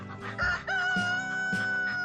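A rooster crows loudly and close by in a henhouse, giving a couple of long, sustained calls with clear ringing tones and a few short clucks between them.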